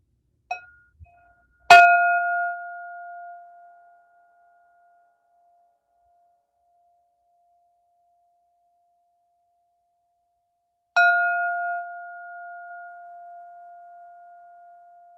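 A meditation bell is struck twice, about nine seconds apart, each strike ringing out clearly with a long, pure tone that fades slowly in an otherwise silent space. A couple of faint taps come just before the first strike.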